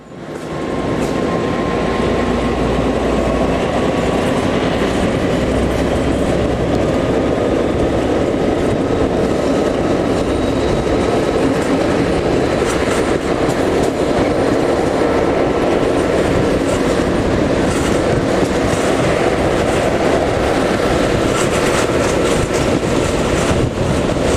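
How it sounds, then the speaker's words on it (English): Steady loud rumble of a train ride behind a Class M62 diesel locomotive around Lake Balaton, with engine drone, rhythmic clickety-clack of wheels and occasional squeal, continuous throughout. "We return to the railway around Lake Balaton and ride behind a Class M62."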